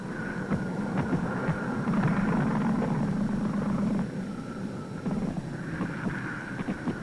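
Engine drone of a World War II training aircraft as the plane drifts downward, a steady low rumble with a droning mid tone, fairly loud and continuous, easing slightly partway through with no talking.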